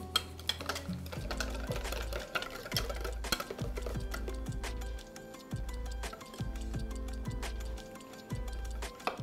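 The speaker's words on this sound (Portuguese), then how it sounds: "Vou pegar o fouet de novo e vou bater até essa manteiga derreter toda." A whisk beats butter into lemon curd in a bowl, giving steady rapid ticking taps close by with a low rhythmic thump underneath, alone without talk.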